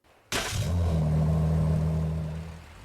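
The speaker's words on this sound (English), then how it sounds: "Starting off, it has a custom engine startup" A custom car engine startup in the Roblox game Jailbreak gives a sudden crank, then a deep rumbling rev that holds steady and slowly fades, alone and clear.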